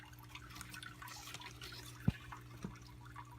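Water from aquarium pump tubing falls into an aquaponics grow bed as a faint, steady trickle under a low pump hum, with a couple of distinct drips standing out.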